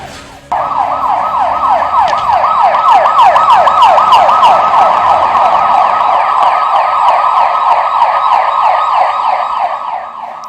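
A loud ambulance siren wails continuously and close by as the ambulance approaches a hospital, its rising and falling tone holding steady throughout with faint road noise beneath.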